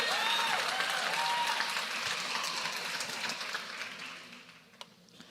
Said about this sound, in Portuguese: Aplauda aí, só as mulheres ricas aí, ó.